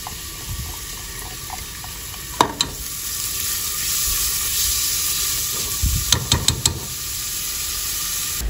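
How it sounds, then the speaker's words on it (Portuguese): Green onion and garlic sautéing in olive oil in a pan, a steady soft sizzle with a few sharp clinks and scrapes of stirring utensils, close by and without talk. "Vamos lá, agora refogar a cebolinha e o alho."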